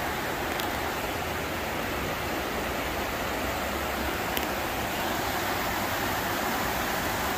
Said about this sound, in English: We put in some rapids here.